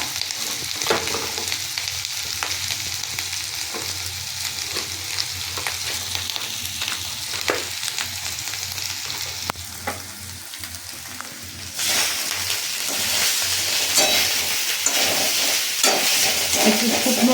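Spices such as chaat and tadka masala frying in a pan while preparing Bengali egg devil, a steady close sizzle with occasional stirring scrapes that grows louder and brighter in the final seconds.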